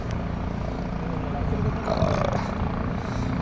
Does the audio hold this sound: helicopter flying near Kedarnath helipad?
yes